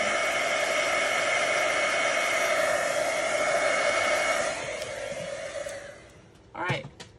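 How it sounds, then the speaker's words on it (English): A heat gun blows a steady, loud whooshing roar while drying watercolor paper for a card, running continuously before winding down and cutting off, followed by a brief handling rustle. "if you put the heat gun on both sides"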